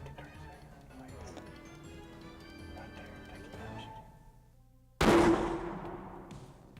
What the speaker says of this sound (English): Good shot, Richard.